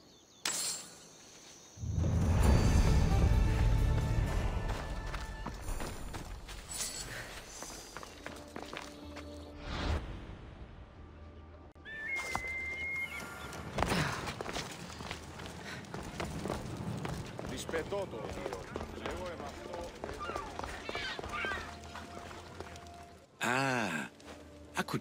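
Approaching footsteps in Assassin's Creed Odyssey, a loud rush of movement at first, then scattered steps and light rustles across a long stretch with ambient game sound, with no talking.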